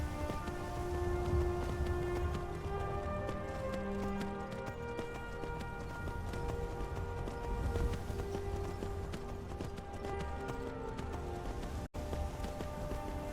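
Horse hooves clip-clopping in Skyrim, a steady run of rhythmic hoofbeats over a busy ambient bed with tonal music, continuing for several seconds with a brief dropout near the end.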